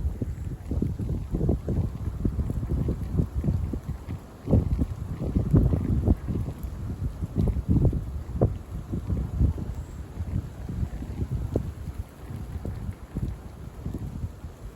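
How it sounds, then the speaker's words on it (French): Steady gusty wind of moderate strength buffets the microphone throughout, a low rumbling roar that swells and dips without pause, with no voices. "Il y a un peu de vent quand même."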